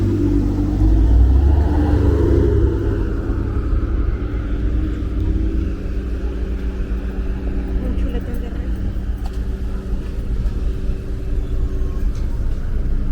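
A car rumbles past on a Brooklyn street near Avenue U on a hot day, loudest at first and then fading into steady traffic hum, with a person talking throughout.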